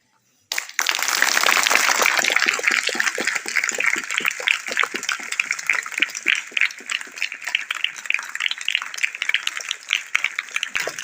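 A crowd applauds at a farewell and felicitation ceremony, with dense, sustained clapping that begins abruptly after a short silence and gradually thins into scattered, uneven claps.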